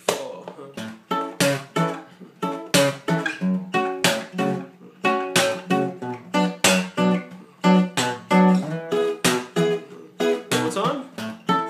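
Acoustic guitar chopping out a slow ska rhythm, a steady run of short, sharp offbeat strums with brief muted gaps between them, close and clear with no talking.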